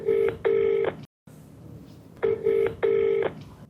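A telephone call is placed, and a ringback tone sounds as two paired bursts of ringing, a pause, then another pair. It is clear and close, with no voices.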